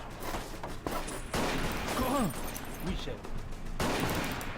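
Soldiers return fire in a World War I urban battle in the video game Battle of Empires 1914-1918, a dense, continuous rattle of rifle and machine-gun shots with overlapping cracks, loud and close, while voices shout over it.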